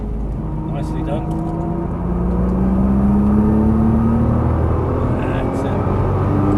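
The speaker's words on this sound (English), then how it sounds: "Downshift once more, let's get some revs going" Inside a Nissan GT-R on track, the engine rumbles loudly, then rises in pitch over a couple of seconds as the revs build after a downshift, holding steady near the end.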